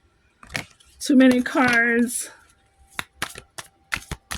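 Tarot cards shuffled by hand at close range, a string of crisp flicking snaps after a short stretch of talking, several quick riffles in uneven rhythm.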